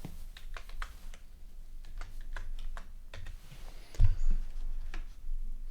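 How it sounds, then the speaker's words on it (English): Quick, light tapping on a computer keyboard, a close run of irregular key clicks with a soft thump partway through and no talking. "let's just type that in"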